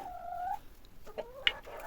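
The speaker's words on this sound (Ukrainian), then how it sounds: "Кури." A few faint, short hen clucks at a distance in a vegetable garden, one sharper note near the end, in an otherwise quiet setting.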